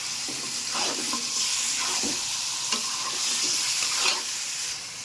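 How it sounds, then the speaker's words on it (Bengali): Chicken pieces fry in hot oil in a pan for biryani, a continuous close sizzle broken by scraping stirs of a spoon every second or so. "মাংসটা লাল হওয়া পর্যন্ত এমন করেই ভেজে নেব।"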